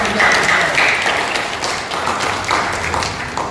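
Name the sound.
audience applause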